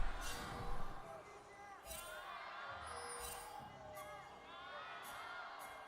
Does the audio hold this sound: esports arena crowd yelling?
yes